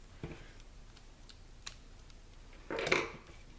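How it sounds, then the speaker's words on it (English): Scissors snip off the excess ribbon tails of a small bow tied on a gummy bear treat bag. A few faint ticks come first, then one sharp, close cut near the end in a quiet room. "Let's cut off the excess."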